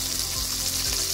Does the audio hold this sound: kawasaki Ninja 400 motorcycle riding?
no